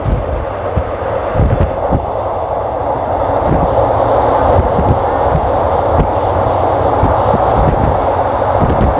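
Train interior near Bang Khen station on the line from Krung Thep Aphiwat to Don Mueang: a dense, constant rumble with regular knocking wheel beats over rail joints, loud and near.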